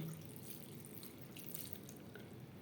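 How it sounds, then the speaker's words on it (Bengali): Water poured into a cooking pot while making a vegetarian banana flower curry, a steady, faint splashing trickle close by with no talk. "আর দিয়ে দেব জল"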